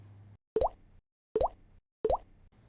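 Three short, bright plopping pops ring out in quick succession, each a rising boing-like blip in a game double-jump landing effect, separated by brief silences.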